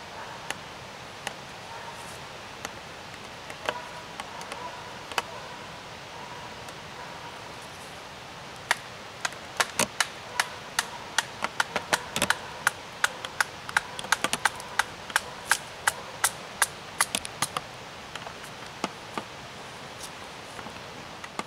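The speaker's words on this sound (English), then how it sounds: "I'm going to take the thicker end and baton down that" A knife is batoned down through the thick end of a stick outdoors while making a survival spear, giving a long run of sharp, dry knocks that start sparse and then come in quick, uneven bursts, with no talking.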